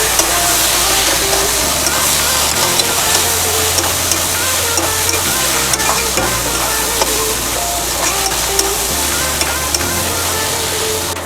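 Fish-head masala sautéing with Kashmiri chili powder in hot oil, a steady close sizzle with repeated scraping and stirring strokes running throughout, no talking.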